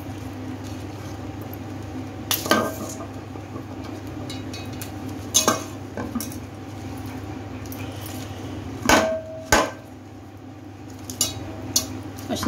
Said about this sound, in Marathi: आता मी हे दुसऱ्या पातेल्यामध्ये काढून घेते।